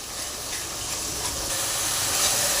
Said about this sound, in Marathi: आणि 10 मिनिटे ही ग्रेव्ही छान अशी भाजून घेणार आहे